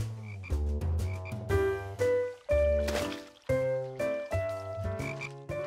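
Cartoon frogs croaking in a series of loud, close, musical ribbits of varying pitch, several calls in quick irregular succession with no talking.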